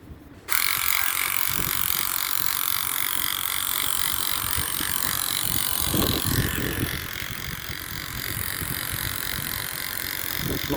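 A vintage Radio Shack toy Formula One racer runs in circles outdoors, its small motor a continuous high whine starting abruptly after a brief pause, with wind noise rumbling underneath and no talking.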